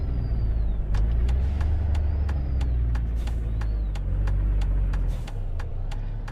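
Modded truck in a driving game with Steam Workshop engine, transmission and sounds, a steady deep engine drone with regular short ticking clicks and a brief rising whine at times, continuous and close without talk.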